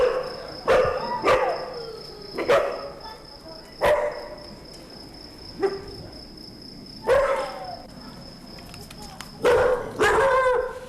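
Street dogs barking on the roads of Kathmandu, several loud, sharp barks arriving in irregular bursts across the scene, with a steady high insect-like whine running underneath.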